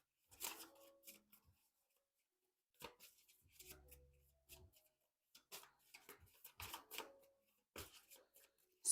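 Quiet bursts of tarot cards being shuffled, with brief pauses between riffles and a short low rumble in the middle.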